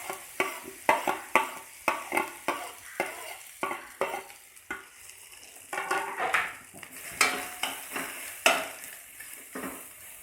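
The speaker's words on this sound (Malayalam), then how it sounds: "വെളിച്ചെണ്ണ നന്നായി ചൂടായിട്ടുണ്ട്. അതിലേക്ക് ബീട്രൂട്ട് ഇട്ട് കൊടുക്കാം." Beetroot frying in hot coconut oil in a pan, a continuous sizzle overlaid with a steady run of rhythmic scraping strokes and clatters as it is stirred, close and fairly loud, with no voices.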